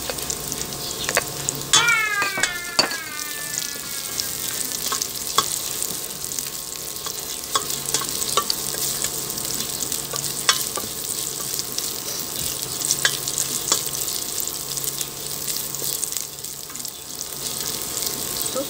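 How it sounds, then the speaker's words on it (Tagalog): Ginger sautéing in a pan for chicken tinola, a steady close sizzle with light clinks of a utensil; a cat meows briefly early on. "Magisa-gisa at lumabas talaga yung amoy niya."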